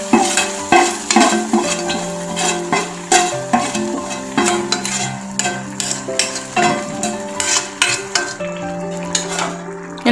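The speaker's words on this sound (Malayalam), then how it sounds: "കടുക് വറുത്ത് ചേർത്ത് കൊടുക്കാം." Fried mustard seeds are stirred into a spinach curry, cheera mulakooshyam, giving a crackling sizzle under a quick rhythm of metal spoon clinks and scrapes against the pot. The sound is close and busy, with no voices.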